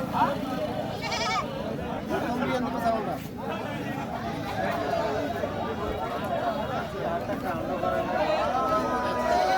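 Goats bleat amid a busy livestock market crowd in Bangladesh, wavering calls rising over constant chatter and nearby talking voices.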